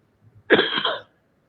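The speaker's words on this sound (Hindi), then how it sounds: "खांसी आ रही है।" A single short burst of coughing from a person during a Hindi-language political discussion, loud and close, with a sharp onset that quickly trails off into quiet.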